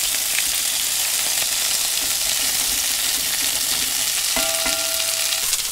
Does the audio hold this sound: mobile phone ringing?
no